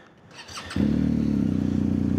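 A BMW R 1250 GSA motorcycle engine cranks over and fires into a loud, steady idle close by, after a brief moment of quiet handling noise.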